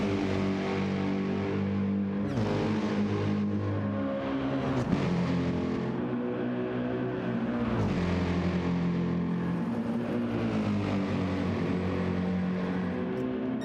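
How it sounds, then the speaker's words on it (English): Car engine in Battlefield 6 rolling down a mountain road, a steady harmonic drone with shifting pitch as it coasts and revs, loud and continuous throughout with no talk. "listen to the sound of that car"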